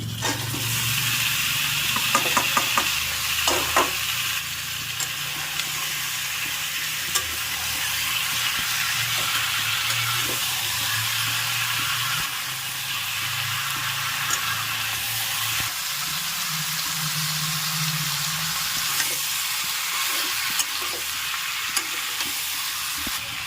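Turmeric-coated jackfruit pieces fry in spiced oil with a loud, continuous, close-up sizzle, broken by occasional stirring and clinking from the pan throughout.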